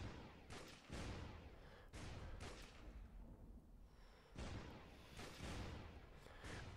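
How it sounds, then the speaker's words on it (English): Explosions and gunfire in Sniper Team, a shooting video game: a run of rumbling, crackling blasts in several bursts over about seven seconds, with a short lull in the middle, heard at a moderate distance. "There's explosions going off."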